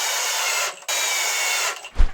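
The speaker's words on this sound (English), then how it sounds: "Get your 3-inch wood screws and drill through the pilot holes." A power drill drives 3-inch wood screws through pilot holes into wood, two loud close whirring runs separated by a brief pause, ending with a thud.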